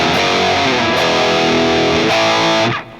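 A heavily distorted electric guitar chord through a JCM800 amp and MXR 6 Band Graphic EQ pedal rings out loud and sustained, restruck a couple of times, then cuts off abruptly near the end.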